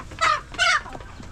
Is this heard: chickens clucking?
yes